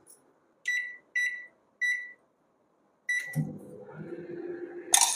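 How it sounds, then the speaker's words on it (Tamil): Three short, evenly spaced microwave oven beeps, followed by a clunk and general kitchen clatter, while vermicelli pulao mix is cooked. "இப்போ நம்ம ரெண்டுலேருந்து மூணு நிமிஷம் அதை மைக்ரோவேவ் வச்சு எடுக்கலாம்"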